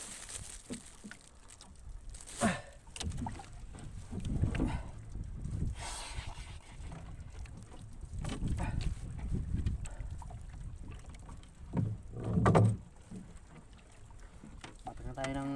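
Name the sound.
small boat moving on water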